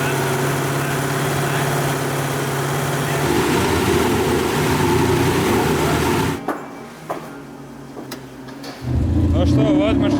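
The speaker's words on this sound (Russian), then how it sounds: "Даже по звуку выхлопа сейчас слышно, что он уже лучше работает." A Nissan Skyline's engine and exhaust drone loud and close after tuning on a dyno, a steady running note that cuts out abruptly partway through, leaving quieter clatter before the engine sound returns at the end.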